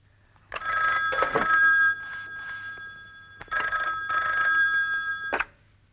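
A telephone rings in two long trilling bursts separated by a pause, loud and close, with nothing else around it.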